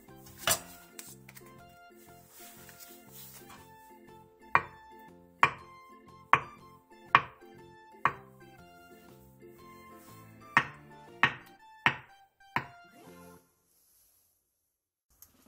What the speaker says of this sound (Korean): 순두부 1개를 2cm 정도 두께로 잘라주세요.